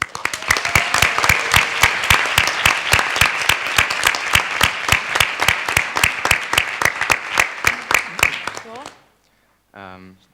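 A conference audience applauding nominees with a dense, loud, steady burst of clapping that goes on for about nine seconds, then stops abruptly before a brief tone.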